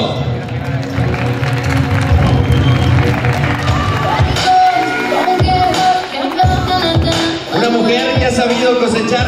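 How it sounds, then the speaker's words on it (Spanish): A large crowd at a Miss Earth Nuevo León beauty pageant cheers and applauds loudly and steadily, with a few shouts rising above the noise. "Un momento para darle el aplauso a su gay, Willy. ¡Fuerte el aplauso!"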